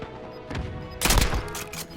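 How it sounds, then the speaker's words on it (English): Gunfire erupts in a Warzone match: a short, loud crack of shots lands about midway after a quieter build-up of game ambience, with no talking. "But then I heard the shooting."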